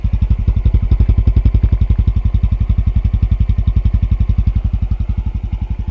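A Honda CT125 motorcycle with its original exhaust idles close by, a loud, rapid and very even chugging pulse with a steady beat that holds for the whole stretch, no one speaking.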